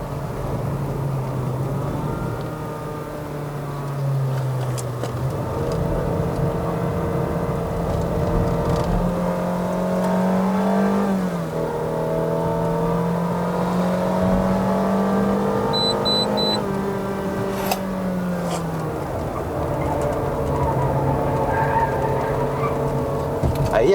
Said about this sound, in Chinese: Honda 的车会比较让你听到引擎的这个声浪